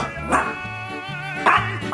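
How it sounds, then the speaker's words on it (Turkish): A small house dog barks on command, two sharp barks about a second apart, close and fairly loud over a steady humming background. "Ve biz bunu havlaması için söylüyoruz."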